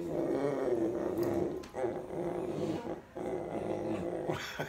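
Dogs growling in a low, continuous rumble, fairly close, with short breaks and a brief higher yip or whine near the end; no talking.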